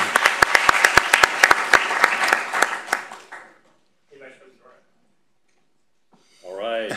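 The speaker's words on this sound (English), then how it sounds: "let's give Vice President Dorhout a round of applause" A short burst of applause with sharp individual claps that fades out within a few seconds, followed by near silence and then a voice speaking.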